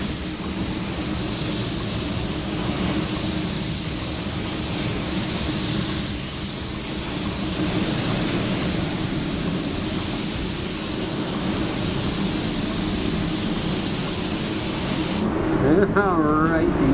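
A Porphis PRD-717 paint sprayer with a split tip nozzle hisses loudly and steadily for a long stretch, a close, continuous airy spray that stops abruptly near the end, where a voice begins speaking.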